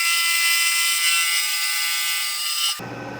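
A chamfer mill cutting a gib for an Atlas lathe cross slide gives off a steady, loud high-pitched machining whine that stops abruptly near the end, leaving a faint low hum.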